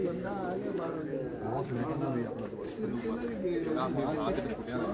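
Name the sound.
racing pigeons cooing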